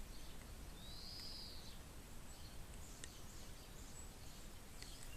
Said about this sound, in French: Ici, c'est que des oiseaux.